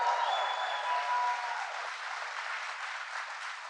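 A crowd applauding for the President at an event in Poughkeepsie, New York: steady sustained clapping from many hands, fairly distant and even, slowly fading slightly.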